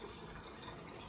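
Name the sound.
kombucha being poured to fill containers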